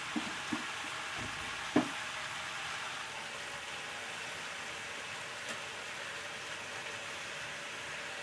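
Vegetables frying in a pan with salt added, a steady soft sizzle that runs throughout with a few faint clinks near the start and no talking.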